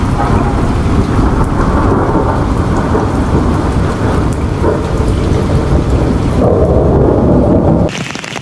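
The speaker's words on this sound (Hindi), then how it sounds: "बहुत तेज़ बारिश हो रही है" Heavy rain pours steadily on a bridge in Sarai Saleh, Haripur Hazara, with thunder rumbling beneath the dense, loud downpour, which cuts off near the end.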